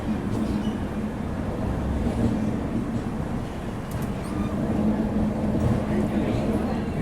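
West Coast Superfast Express pulling out of Coimbatore Junction: a steady, continuous rumble of rolling rail cars with a low mechanical hum, heard from on board, with voices talking over it throughout.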